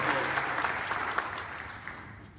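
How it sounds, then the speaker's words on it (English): An audience at a Hindu temple kirtan gives a round of applause for the musicians, a dense burst of clapping that slowly fades out over a couple of seconds, heard from within the hall. "Give them a lovely round of applause"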